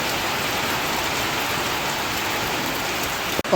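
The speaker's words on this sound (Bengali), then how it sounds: "অনেকদিন পর এরকম একটু জোরে বৃষ্টি নেমেছে" Heavy rain pours down in a dense, loud, steady hiss of drops on surfaces, unbroken throughout with a brief knock right at the end; no one speaks.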